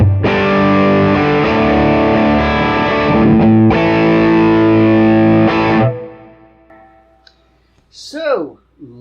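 Electric guitar driven through an overdrive pedal into an Engl Egnator amp in a stereo rig with the amps in phase: loud, thick distorted chords ringing for about six seconds, then decaying, followed by a brief voice.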